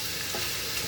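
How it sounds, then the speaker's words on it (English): Shrimp frying in butter in a pan, giving a steady, dense sizzle that fills the whole moment without any voices. "I'm frying the shrimp"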